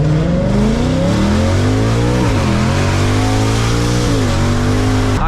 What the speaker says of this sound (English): right, third gear downshift.